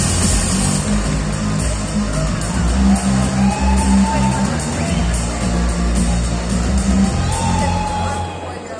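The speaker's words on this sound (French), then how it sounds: "Je vous demande d'applaudir bien fort" A large crowd at a cosplay contest in Nantes applauds and cheers loudly, with whoops and shouts over a dense wash of clapping that continues throughout, then fades slightly at the end.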